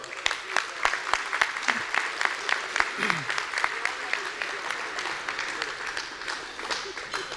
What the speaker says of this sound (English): I want to applaud that as well